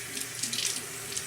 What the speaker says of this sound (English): I'm going to take a wash rag, wet it in cold water,